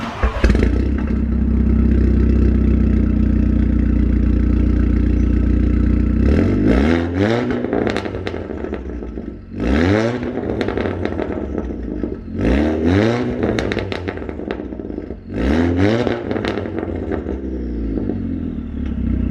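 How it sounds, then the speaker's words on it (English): An Audi TTS MK2 idles with a deep, loud rumble, then its aftermarket Armytrix exhaust revs sharply several times, each rev rising and falling back to idle. "I will give you guys a little preview of how this exhaust sounds."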